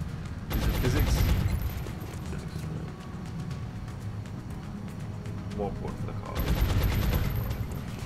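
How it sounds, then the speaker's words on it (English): Automatic gunfire from XCOM: Long War: two dense bursts of rapid shots, one near the start and another near the end, with quieter battle noise and faint chatter in between. "Bullets ricocheting off of just wherever they can find"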